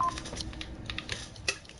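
Phone keypad tones in quick succession, several short beeps with a soft tapping rhythm, fairly quiet and close, with no voices.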